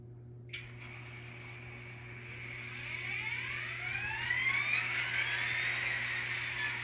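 An N scale ScaleTrains SD40T-2 model locomotive's sound decoder starts up, a faint electronic diesel idle that rises with whining tones climbing steadily in pitch over several seconds, over a constant low hum.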